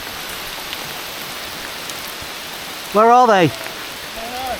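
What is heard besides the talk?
rain falling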